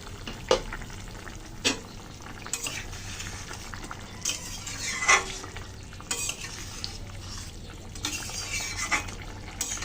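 Fish curry of chela fish in mustard paste bubbling in an open pan, a steady soft sizzle and simmer with occasional clinks and stirring scrapes of a spoon against the pan.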